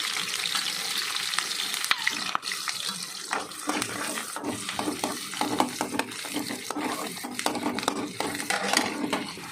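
Sliced onions fry in hot oil with a strong, continuous sizzle and crackle, close and loud, while occasional stirring scrapes cut through the hiss.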